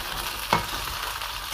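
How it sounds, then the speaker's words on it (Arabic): Pasta being stirred and fried in a pan, giving a steady sizzle with one brief scrape or clack of the spoon partway through. "هلا بنحرك بنقلي المعكرونه."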